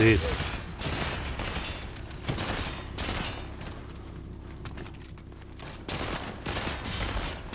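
A bot keeps firing at a player's shield in a shooter video game, producing loud rapid bursts of gunfire that come in dense volleys with brief gaps between them.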